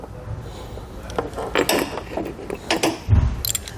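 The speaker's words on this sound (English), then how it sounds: "Grab a 13mm socket and wrench and tighten down that nut." A 13mm socket wrench ratchets to tighten a battery post nut on a 2018 Chevrolet during a battery disconnect install, giving a close run of irregular clicking strokes.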